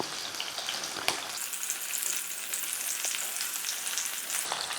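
Masala-coated plantain slices fry in hot oil with a steady, moderately loud bubbling sizzle and occasional sharp crackles.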